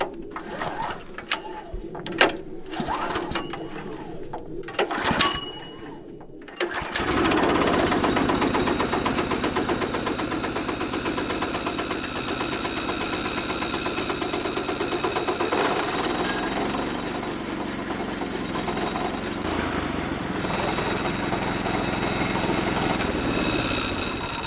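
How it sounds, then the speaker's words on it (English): An old Kohler motor on a lumber mill cranks over with a few sputtering catches, then starts and runs steadily with a loud, even mechanical clatter that continues throughout, its pitch shifting slightly partway through. "it's been a while since we fired the motor up"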